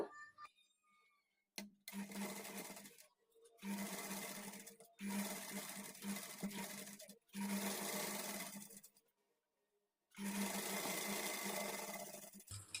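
A sewing machine stitches a blouse lining, about six separate runs of fast, steady mechanical whirring broken by short pauses, close but fairly quiet.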